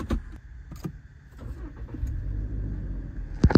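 A 2024 Toyota Fortuner top-model automatic SUV starts up: a few brief cranking bursts give way to a steady, close, low idle rumble.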